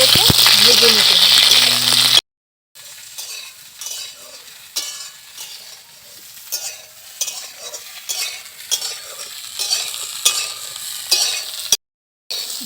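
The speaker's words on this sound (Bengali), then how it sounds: "তেল গরম হয়ে গেছে, কপিগুলো দিয়ে দেব। কপিগুলোকে ভেজে নিতে হবে।" Cauliflower florets frying in hot oil give a steady, fairly loud sizzling hiss with soft bubbling swells, after a brief voice at the start and a short silent gap.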